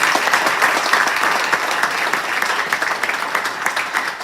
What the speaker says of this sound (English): I'd love for you guys to give some applause to this panel.